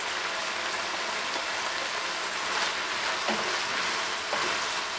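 Steady crackling sizzle of chopped peppers and onions frying in a hot pan with liver, continuous and close, with a few small clinks near the end.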